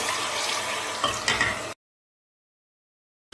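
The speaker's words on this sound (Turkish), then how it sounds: "Bir litre sütü içine yavaş yavaş ilave ediyorum." Milk poured slowly into a pan of toasted flour gives a steady hissing sizzle with bubbling and a couple of sharper spits, lasting under two seconds before cutting to silence.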